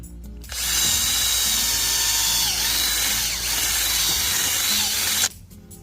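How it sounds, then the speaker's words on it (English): A power drill auger bores into wet, grassy ground, starting abruptly and whining loud and steady for about five seconds before cutting off, with no talking. "Handy dandy drill auger thingy bobber here."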